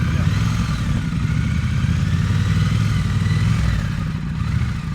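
A motorcycle engine putters steadily at low throttle during slow-speed riding practice, a close, even drone with light mechanical clatter and no clear revving.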